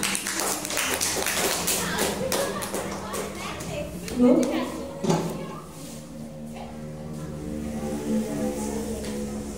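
Children at an elementary school speech contest clap in a lively burst of applause for the next participant, the clapping thinning after a few seconds as children's voices and chatter take over.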